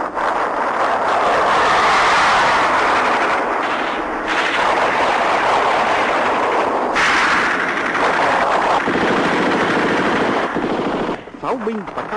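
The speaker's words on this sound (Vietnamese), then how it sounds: "Pháo binh và cao xạ của binh đoàn trên đường hành tiến bắn yểm trợ cho sư đoàn 3 Sao Vàng." Artillery and anti-aircraft guns firing in rapid, dense bursts, a loud continuous barrage of booms and chattering shots lasting throughout, with a narrator speaking over it.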